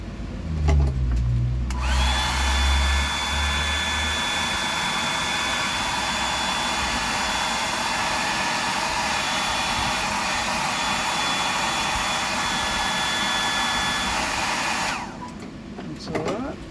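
A small dryer blows a steady, loud whoosh with a thin whine as it dries paint on a custom fishing lure. It runs continuously for about thirteen seconds, then cuts off, with brief handling noise before and after.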